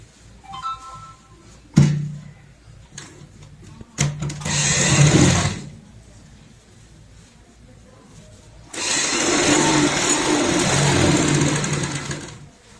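A sewing machine stitching an old-shirt shopping bag runs in two steady whirring bursts of a few seconds each, close and loud, with brief handling knocks and clicks between them.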